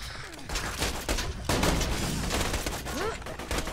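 Shotgun blasts and other weapon fire go off in rapid bursts during a Borderlands 2 firefight, loud and close, with game effects layered in between the shots.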